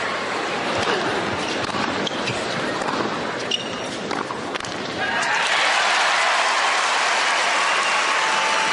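Tennis spectators at the 2006 US Open second-round match between Agassi and Baghdatis break into applause, a dense wash of clapping that swells and holds loud, with some voices underneath.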